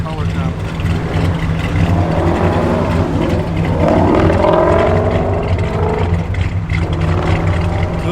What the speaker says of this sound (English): Sounds like a Mopar should.